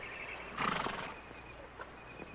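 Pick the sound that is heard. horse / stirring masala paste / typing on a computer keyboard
horse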